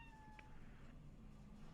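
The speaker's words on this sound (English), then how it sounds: "Can I pet the cat?" A cat in the video game Cyberpunk 2077 gives a short, soft meow, faint and brief against quiet in-game ambience.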